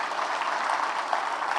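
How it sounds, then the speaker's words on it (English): Applause from an audience at a political speaking event, a soft continuous wash of clapping that holds at an even level for under two seconds. "we really have to give Secretary Cristina a round of applause for all"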